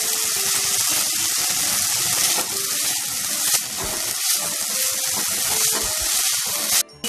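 Potatoes and onion fry in a pan for chirer polaw, a continuous close hiss and sizzle with small crackles and brief dips.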